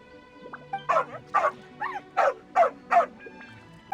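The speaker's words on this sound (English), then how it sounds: "there's a good dog. Calm down." A dog in Genshin Impact gameplay gives a run of about six short, whimpering yips and soft barks in a steady rhythm, close and clear over quiet ambience.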